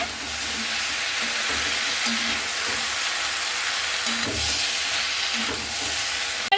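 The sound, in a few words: stirring Malabar spinach stems and leaves in a pan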